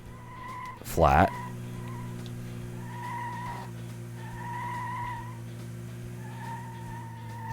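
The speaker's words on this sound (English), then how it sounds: "The tire squeal is a lot louder than the engine." A race car's tires give one sharp, loud squeal in Metropolis Street Racer, then a steady engine drone carries on underneath while someone talks.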